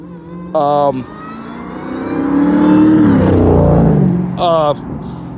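A GT sports car revs and drives past, its engine note swelling to a loud peak midway and then fading, with brief voice fragments at the start and end.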